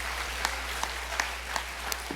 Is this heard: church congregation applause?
yes